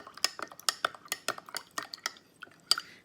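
A utensil stirring homemade hand sanitizer of alcohol and aloe vera in a container, a quick series of light clinks and taps, close and fairly quiet, with no talking.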